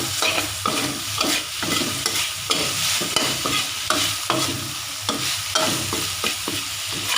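Oil sizzles steadily in a pan of chicken hearts with garlic and pepper while a utensil stirs and scrapes in a quick, repeating rhythm, close by and fairly loud.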